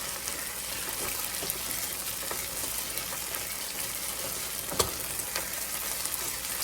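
Garlic sizzles steadily in a hot pan while making a vegan lasagna, a continuous bright frying hiss with small pops and one sharper clack, no talking.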